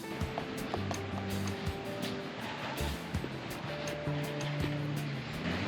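Ocean surf rolls in at Varadero Beach, Cuba, a steady wash of waves with broadband hiss and low rumble, carrying faint wind buffeting and scattered background tones throughout.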